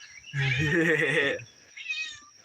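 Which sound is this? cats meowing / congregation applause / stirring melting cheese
cats meowing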